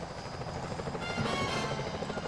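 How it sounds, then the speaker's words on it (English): A steady whirring security helicopter drone in the video game Sly Cooper: Thieves in Time, with a thick rotor rumble and hiss, holding continuously and swelling slightly louder partway through. "Those security choppers are bad"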